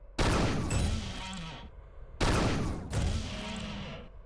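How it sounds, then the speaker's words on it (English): Two bursts of firing from the dispersion pistol in Unreal 2, each a loud, harsh blast lasting over a second and then cutting off, separated by a short pause, with no talk. "The dispersion pistol doesn't pack a whole lot of punch, but it's always there for you because it never runs out of ammo"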